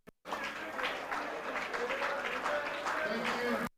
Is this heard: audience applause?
yes